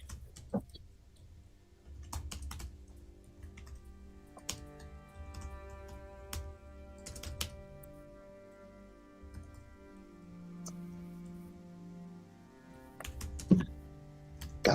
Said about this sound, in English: God, he's typing again,